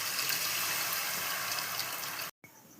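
Soaked tamarind water is poured into a pot of fish curry in a steady, close, gentle stream that stops abruptly near the end.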